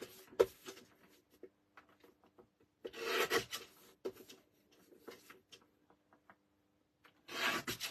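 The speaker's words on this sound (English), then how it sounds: "I'm just going to trim a little bit off around each side" Trimming the edges of an art journal produces short, dry rasping cuts and rubs, close and fairly quiet, coming in irregular bursts with near-silent pauses between them.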